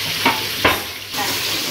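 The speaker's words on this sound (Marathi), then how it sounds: "ती आता ती हलवणार थोडा वेळ मटण परतेपर्यंत." Mutton pieces frying in oil in a pan, without onion or paste, are stirred in a steady sizzle, with a few louder scrapes of the spoon against the pan spaced through it.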